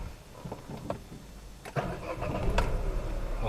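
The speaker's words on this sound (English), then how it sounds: "3 cylinder engine है तो थोड़ी सी साउंड आती है" A 2024 Renault Kiger RXZ three-cylinder engine cranks and catches, then settles into a steady low idle, heard close and moderately loud.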